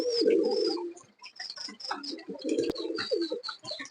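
Pakistani pigeons coo in soft, throaty bursts, several overlapping calls close by with light chirps in between, in a quiet setting without speech.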